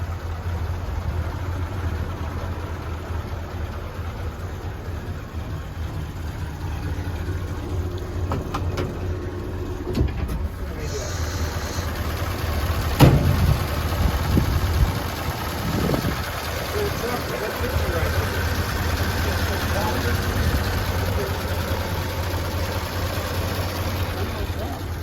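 A 1947 Ford pickup engine idles with a steady, low, even rumble throughout, with a brief knock partway through and faint voices in the background.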